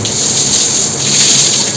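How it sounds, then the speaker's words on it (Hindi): A water hose sprays newly built brick walls to cure them, making a loud, steady hiss like heavy rain that runs unbroken throughout. "ये देखिए प्रेशर बन चुका है, आ जा और तराई शुरू हो चुकी है।"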